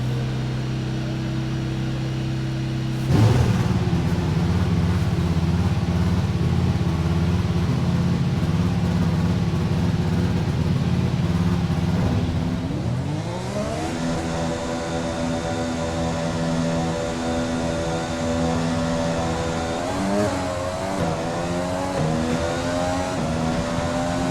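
A Formula 1 car engine in F1 2020 roars steadily, then revs climb and shift repeatedly as it accelerates through gears, loud and continuous with no talking.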